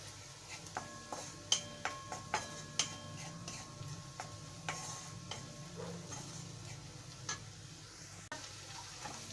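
Onions frying in a little oil for Punjabi sarson saag make a soft steady sizzle, with a series of distinct clicks and taps from the pan and spoon recurring during the first half, close and without talk.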